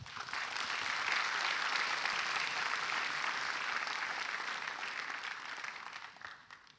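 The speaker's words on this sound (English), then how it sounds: "Let's give them a round of applause." Sustained applause from a large audience honouring graduates at a university convocation ceremony, a dense, steady wash of clapping that holds for several seconds before tapering off at the end.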